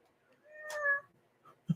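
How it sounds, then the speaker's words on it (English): A short synthetic cat meow sound effect with a rising, tonal cry, played alone in quiet surroundings and followed by a brief soft thump. "It's my new cat sound."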